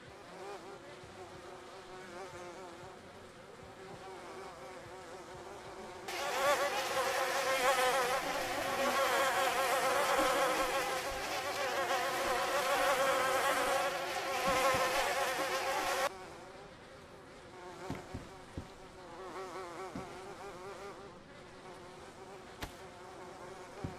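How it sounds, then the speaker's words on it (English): Bees in the video game DayZ make a loud, dense buzzing drone that swells in and holds for about ten seconds, then drops away, leaving a faint hum with scattered small clicks. "Attach these bees."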